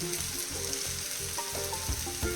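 Ground garam masala and black pepper powder sizzle in hot oil in a pan for channa masala, a steady close crackle with soft rhythmic stirring scrapes throughout and no talking.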